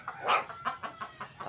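Native chickens cluck close by at feeding time on a rural farm, a quick run of short, soft clucks with one louder squawk near the start, repeating in uneven pulses.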